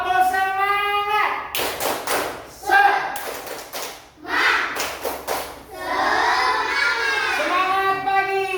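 A school class performs a rhythmic spirit clap in a classroom, bursts of patterned claps and thumps alternating with children chanting and shouting together, loud and close.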